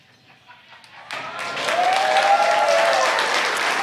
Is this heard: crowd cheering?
yes